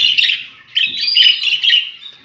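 Budgerigars chirp in a busy, high-pitched chatter, two close bursts of rapid warbling tweets with a short pause between.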